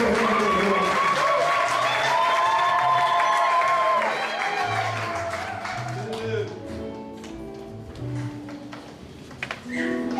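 A church congregation in Lyon applauds and cheers to acclaim the word of God. Voices ring out in sung, tonal cries, with crowd clapping growing more noticeable toward the end.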